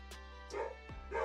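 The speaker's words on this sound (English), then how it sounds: "Somebody is at my door and the dogs are barking." A few sharp dog barks in quick succession, somewhat muffled as if from another room.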